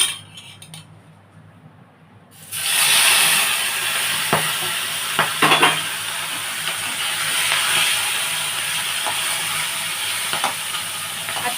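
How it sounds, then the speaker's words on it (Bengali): Morola fish dropped into hot mustard oil, setting off a loud, steady sizzle that keeps going for several seconds after a quiet start, with a few sharp spatters and pops. "সর্ষের তেলটা হয়ে গেছে মাছ ভাজার জন্য"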